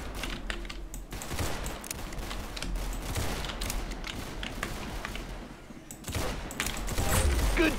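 Gunfire from the Roblox shooter Arsenal, dense rapid shots crackling over busy game noise and clicking, continuous through the clip with a louder burst near the end.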